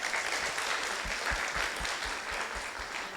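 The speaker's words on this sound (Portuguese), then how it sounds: "Palmas para o grupo 2" A group in a basic Spiritism course receives steady applause from a classroom audience, dense clapping that holds at an even level throughout without any talk.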